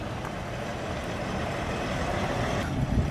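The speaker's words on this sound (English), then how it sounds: "That's a mighty fine looking truck." A 2019 Kenworth W900L Comanche big rig rumbles nearby with a continuous heavy engine drone, swelling slightly toward the end.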